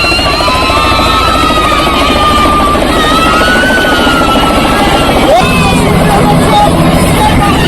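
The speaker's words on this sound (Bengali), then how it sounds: "দেখতে পাচ্ছেন হেলিকপ্টার কিন্তু চলে আসছে" A helicopter comes in to land at a crowded village wedding in Bangladesh, its loud close rotor roar and engine whine continuous throughout, with crowd babble underneath.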